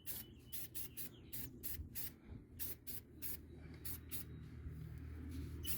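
Shine spray is misted onto an abandoned Dodge Dakota 5.9 R/T in a string of short, sharp hissing bursts, some quick and clustered, others spaced apart, quiet and near.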